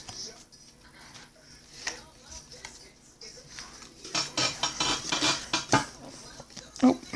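Butterfly shrimp flipped in a pan, giving a few scraping and clattering knocks of metal cookware and utensils that grow busier and louder near the end, over faint background noise.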